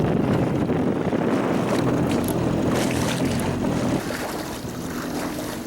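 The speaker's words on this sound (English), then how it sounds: "I'm taking some of the waves on the beam here, so it's kind of shaking the jet ski around a little bit." Waves slap against a jet ski side-on at sea, rocking the craft, with a dense constant wash and rumble of water and wind close to the microphone and no talking.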